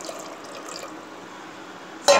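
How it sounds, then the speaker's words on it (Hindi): Water poured into a pressure cooker holding soaked chana dal, a steady close pouring wash running for about two seconds before a sudden louder splash at the end. "इस पर मैं डालूँगी अभी और थोड़ा पानी।"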